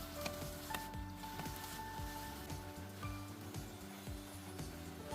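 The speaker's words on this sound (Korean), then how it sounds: "중불에 물이 자작하게 될 때까지 볶아줍니다." Soaked glass noodles stir-fried in a pan over medium heat with seasoning sauce and water, a faint steady sizzle and bubbling with light scraping taps of a utensil against the pan.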